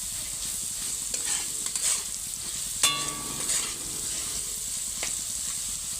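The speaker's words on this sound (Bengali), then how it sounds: "আলুটা প্রায় ভাজা ভাজা হয়ে গেছে, আর অল্প ভাজা হবে" Potato pieces seasoned with salt and turmeric fry in a pan with a steady soft sizzle, broken by a few sharp scraping stirs of a utensil and light clinks, close by with no talking.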